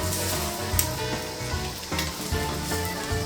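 Monte Cristo sandwiches fry on a very hot stovetop burner, giving a loud, dense, continuous sizzle with a low steady hum beneath it and occasional crackling pops.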